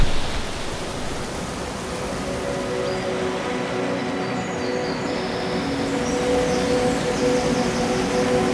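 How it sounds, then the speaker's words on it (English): Nung Nung waterfall in Bali roars as a steady, dense rush of falling water, loud and constant throughout, with no talking. "Guys, how sick is this waterfall?"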